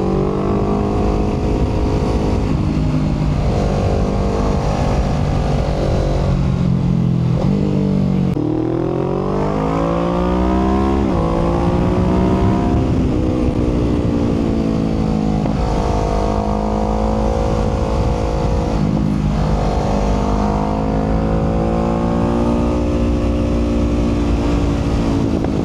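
A 2020 Kawasaki Ninja 650 motorcycle rides through twisty roads, its engine loud and close throughout, revving up and dropping off repeatedly as it accelerates out of corners and shifts gears, with steady wind noise.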